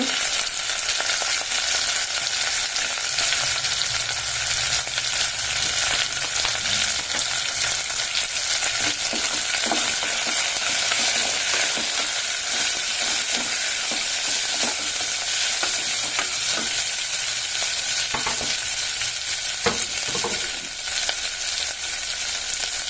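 Onion and mint fry in a pan with a steady, close sizzle that runs throughout, broken by occasional scraping clicks as the mixture is stirred.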